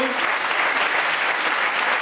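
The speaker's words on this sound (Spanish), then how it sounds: "Gracias, un aplauso." Steady, dense applause from an audience at a sports awards ceremony fills the whole stretch, loud and continuous with no pause.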